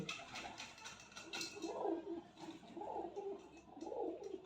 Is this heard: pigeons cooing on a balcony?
yes